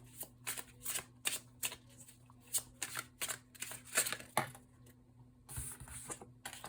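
Tarot cards being shuffled and dealt into piles during a card reading, a quick run of crisp, papery riffles and slaps in short bursts, close and fairly quiet, with no talking.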